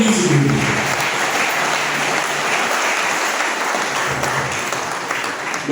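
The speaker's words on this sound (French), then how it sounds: "applaudissons l'église" A church congregation at a funeral applauding, a dense sustained wave of many hands clapping that carries on strongly before easing slightly near the end.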